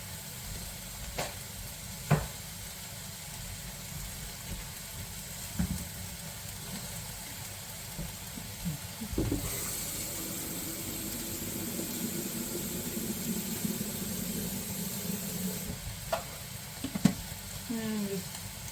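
Cabbage frying in a pan at home, a steady sizzle that swells in the middle and carries occasional knocks and stirring clatters of utensil against the pan.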